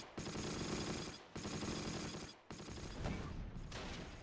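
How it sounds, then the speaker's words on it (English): Sustained gunfire in the Close Combat wartime strategy game, with dense rattling volleys in three long bursts separated by brief breaks, loud and continuous with no talk over it. "Some shots coming in from over here as well."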